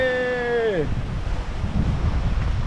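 Sea waves and strong wind sweep across a mountain seaside viewpoint in a Thai national park, with gusting wind noise and a low, rolling surf roar after a brief tonal sound fades at the start.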